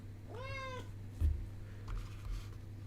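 A cat gives one clear rising-falling meow, fairly close and alone, followed by faint soft room noises over a steady low hum.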